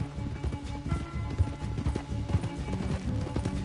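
A horse gallops in Red Dead Redemption II, its hooves pounding a quick repeating clip-clop rhythm over a low rumble, with occasional heavier thuds in the game's outdoor ride.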